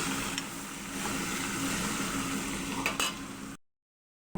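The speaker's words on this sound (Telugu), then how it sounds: "ఒకసారి కలుపుకొని ఇవి గోల్డెన్ బ్రౌన్ కలర్ వచ్చే వరకు ఇవన్నీ వేయించుకుందాం" Ingredients being stirred and fried in a pan until golden brown for spicy chili rice: a steady, moderate sizzle with faint scraping, which then cuts off abruptly into silence.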